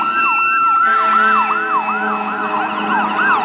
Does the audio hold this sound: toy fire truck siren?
yes